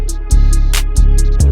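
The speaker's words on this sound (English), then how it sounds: "So an example of that here is this open hat roll I did." Trap-style beat with deep booming 808 kicks and a rapid open hi-hat roll, its bright hissing bursts layered over the heavy bass, loud and punchy in a short looping groove.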